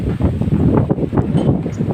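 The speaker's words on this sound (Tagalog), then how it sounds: "Mahangin yung lugar ngayon dito." Loud, gusty wind buffets the microphone outdoors in rough, rumbling surges with no voices.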